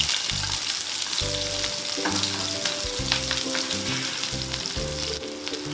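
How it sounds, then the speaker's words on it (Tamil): Small chopped shallots fry in oil with mustard seeds for an okra stir-fry, giving a steady, dense sizzle up close while a spoon scrapes through them now and then. "சின்ன சின்ன கட் பண்ணி போட்டு நல்லா வதக்கிக்கோங்க."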